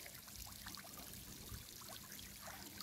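Water from a small garden fountain trickles and splashes steadily, a quiet, continuous babbling with small irregular drips, heard alone.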